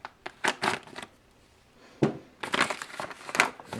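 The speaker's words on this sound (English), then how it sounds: "so we'll go ahead and cut it open from the back side." A 1970s Long Range Patrol ration food packet being cut open from the back, with bursts of crinkling, crunching packaging noise in several close, uneven clusters separated by a brief quiet pause.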